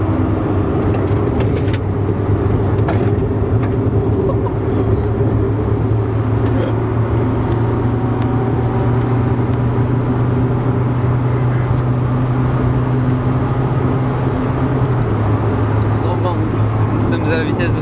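A Renault Super 5 is driven fast around a bend at about 100 km/h, and its steady engine drone and road roar fill the cabin loudly and without pause, while someone talks over the noise.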